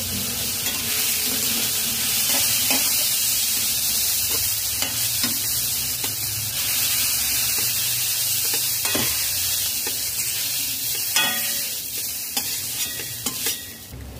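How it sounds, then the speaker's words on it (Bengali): Mushrooms fry in a pan over a medium flame, a continuous close sizzle with occasional stirring scrapes and clinks, no voices. "মিডিয়াম ফ্লেমে 5 মিনিট মাশরুম ভেজে নিয়েছি"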